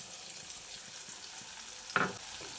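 Ground spice paste with ginger and tomato frying in oil, a quiet steady sizzle broken near the end by a sharper scrape and crackle as the pan is stirred.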